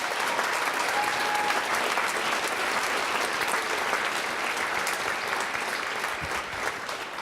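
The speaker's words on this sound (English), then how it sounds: "without Dr. Doug, so please give him a round of applause" Sustained applause from an audience at a high school assembly celebrating Alaska state basketball champions, a dense steady clapping wash that holds for several seconds and eases slightly near the end.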